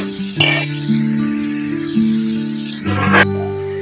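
A spoon scrapes and clinks against a pan while salt and chili powder are stirred into frying broad bean curry, giving a few distinct metallic strokes over a soft sizzle with ringing tones between them.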